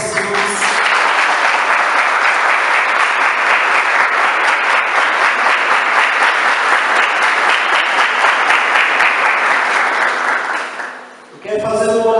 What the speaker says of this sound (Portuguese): Um aplauso para esses irmãos.